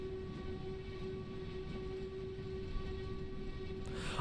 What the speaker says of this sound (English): Do a nice long toot of the whistle. A really nice long toot.